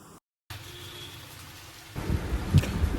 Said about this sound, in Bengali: বৃষ্টি তো ভালোই পড়ছে